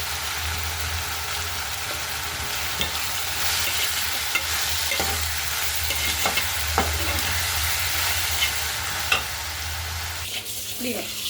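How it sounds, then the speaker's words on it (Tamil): Tomatoes and onions sauté in a pan with salt and turmeric, giving a steady close sizzle broken by occasional scrapes and clinks of a stirring spoon, with no speech. "இப்படியே தக்காளி வதங்கட்டும்பா."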